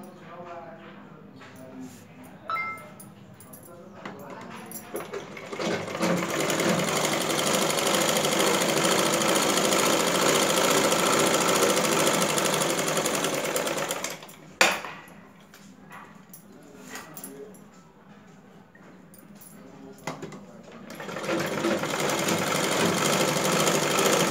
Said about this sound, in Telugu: డాట్స్ వేసుకున్న తర్వాత మనము ఇప్పుడు క్రాస్ పట్టీలు కుట్టుకుందాము